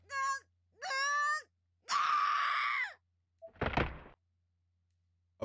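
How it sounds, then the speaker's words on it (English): A young woman named Naomi lets out a primal scream in the horror game Corpse Party: Blood Drive, a series of strained vocal cries rising into a long loud shriek, followed by a heavy wet thud, each separated by silence. "A primal scream erupted from Naomi's floating body"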